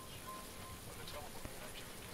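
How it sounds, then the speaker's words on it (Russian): Rain falling in the game PUBG, a faint, steady patter of drops on surfaces with a soft background wash, no clear voice over it. "Идет дождик"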